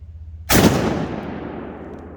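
A single loud, close blast from a Winchester SX4 12 gauge shotgun fired outdoors during a pattern test with waterfowl loads, followed by a long, fading rolling echo.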